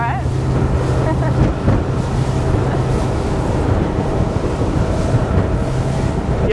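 A luxury Italian RIB's engine hums steadily on the water, with wind buffeting the microphone and waves splashing around the hull.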